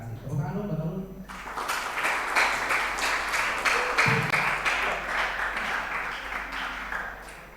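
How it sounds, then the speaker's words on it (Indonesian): An audience at a communication skills seminar breaks into loud, close applause after a brief spoken moment. The clapping then continues steadily for several seconds, with a voice heard faintly beneath it. "Tepuk tangan dulu, betul."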